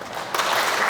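A church congregation breaks into applause to welcome a new member. After a short quiet lead-in, the clapping starts suddenly and carries on steadily, moderately loud, to the end.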